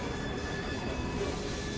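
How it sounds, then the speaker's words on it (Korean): A train rolls steadily through Victorian London in Assassin's Creed Syndicate, pulling cargo cars with a continuous rumbling, rattling wash of wheels and carriages, heard nearby as a dense, even roar. "어, 설마 기차야?"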